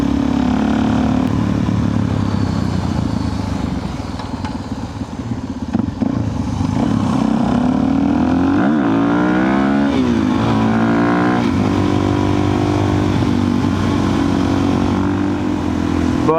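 A Suzuki DRZ 400 supermoto engine runs loud and close, holding a rough idle, then revving up and down in rising and falling sweeps before settling into a steady drone.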